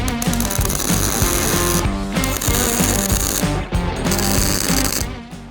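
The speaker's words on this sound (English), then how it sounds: "Right, so now the tack welds are done to hold that in place." Welding on a cheap DIY spare wheel or cargo carrier for a Peugeot Boxer or Fiat Ducato van gives a loud, continuous crackling buzz close up, cut by two brief pauses.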